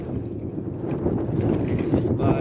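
Strong wind gusts at sea buffet the microphone during net fishing from a canoe, a steady rushing roar with water noise, loud and continuous throughout, with a voice speaking over it.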